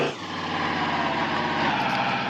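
A video game pickup truck engine idles with a steady, droning rumble and buzzing harmonics, continuous and close throughout.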